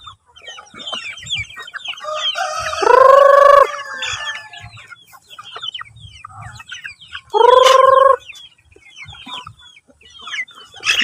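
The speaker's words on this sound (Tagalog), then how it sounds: "dumadami ng ating mga manok ka-farming kasi may breeding po tayo na Basinan at saka Rhode Island" Rhode Island Red chickens on a farm cluck and squawk in bursts, with two loud, drawn-out calls standing out over scattered softer clucking from a flock nearby.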